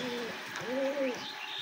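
Pigeons coo softly up close while being fed during heavy rain, a pair of low rolling coos over a steady background wash.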